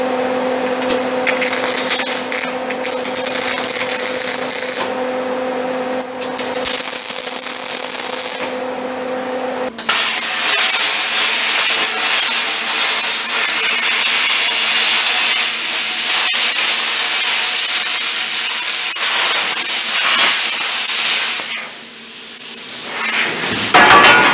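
Metal divider being cut out of a block honing tub built for a 327 engine block, a loud harsh grinding-saw hiss after a humming start, running steadily for most of the clip before briefly dropping off.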